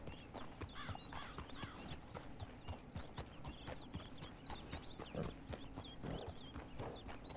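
Horse hooves clip-clop steadily in Red Dead Redemption 2, a continuous walking rhythm of moderately near hoofbeats over an outdoor ambience with occasional faint bird calls.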